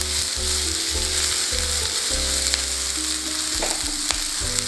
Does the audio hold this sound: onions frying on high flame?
yes